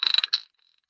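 A quick scrape of a wooden instrument, a rapid clicking, ratchet-like rasp in two short strokes lasting under half a second, close and alone.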